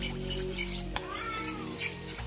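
Salad being stirred and tossed after a splash of Worcestershire sauce, a steady soft mixing rustle with light clinks of utensil against bowl and one sharp knock near the middle, close by with no talk.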